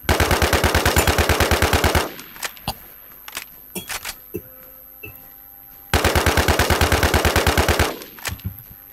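Rapid automatic gunfire in a shooter video game comes in two long, loud, evenly spaced bursts. A quieter stretch between them holds scattered single shots and clicks.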